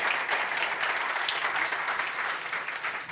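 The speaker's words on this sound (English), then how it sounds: "we give them a warm applause for this" Warm applause from a seated audience at a Startup Grind talk in Almedalen, steady and even throughout the short stretch at moderate loudness.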